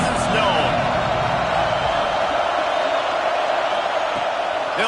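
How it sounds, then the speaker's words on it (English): Football stadium crowd at a Texas A&M game against #6 Missouri: a steady, loud roar of many voices with occasional whoops, sustained throughout, while a commentator talks. "This crowd ready to make its presence known."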